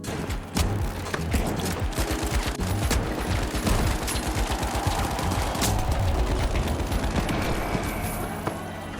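Sustained rapid gunfire pours at an enemy's shields in a video game match, a dense stream of shots that runs steadily and loud for nearly ten seconds, with no voice over it.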